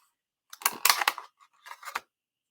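Scissors snip a paper flourish out of light green card stock, a quick cluster of close, crisp cuts followed by a shorter second burst.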